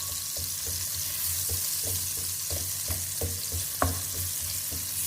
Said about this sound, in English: Added olive oil and some onions. So let's cook the onions.